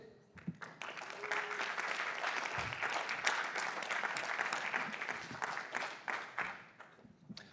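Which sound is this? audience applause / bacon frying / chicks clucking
audience applause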